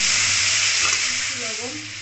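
Ginger, garlic and chilli paste sizzles in a hot pan for egg curry, a loud, dense hiss of frying that eases slightly toward the end, with faint stirring sounds and no talk.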